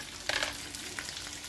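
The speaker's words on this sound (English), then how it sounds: "And just let it saute." Onions sauté in a covered pot with a soft, steady sizzle and a brief light scrape or clatter, faint and without voices.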